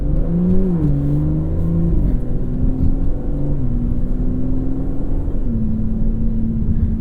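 An Aston Martin driving on the road, its engine a steady low rumble with gentle rising and shifting tones as it accelerates and changes gear, heard from inside the cabin with no one talking.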